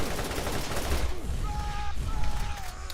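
Enemy turrets blasting away in Borderlands gameplay, a dense continuous barrage of rapid gunfire with whining tonal effects layered over the shots, fairly loud and steady throughout.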